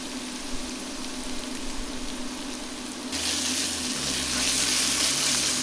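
Tomato paste fries in a pan for a smoked BBQ Bolognese, with a steady sizzle that turns into a louder, brighter hiss partway through, along with a low hum and no talking.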